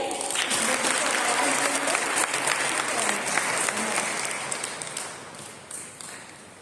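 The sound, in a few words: congregation applauding loudly for God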